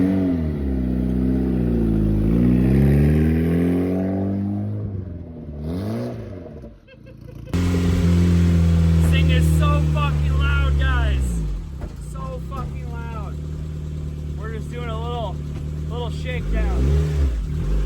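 A mid-engine, rear-wheel-drive Honda Civic on a test drive, its engine loud and close as it revs and accelerates through rising and falling pitch sweeps, with a brief lull and a few shifts along the way.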